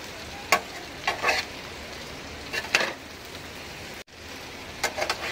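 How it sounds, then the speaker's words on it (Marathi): Okra and potatoes fry in a pan with a steady sizzle, while a spoon stirs them in several short scraping bursts and one sharp knock against the pan. "आता भेंडी व्यवस्थित आता मिक्स करून झालेली आहे"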